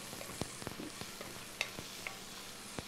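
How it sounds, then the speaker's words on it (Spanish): Chopped vegetables for a chickpea fish curry sauté in a little oil, with a soft steady sizzle and scattered scraping clicks from a stirring spoon against the pan, quiet and close. "vamos a empezar por sofreír primero toda la picadura. Entonces, vamos a ir acá revolviendo."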